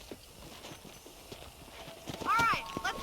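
Horse hooves clip-clop at a steady walking pace in Red Dead Redemption, fairly faint and close, with a brief whinny-like call rising near the end.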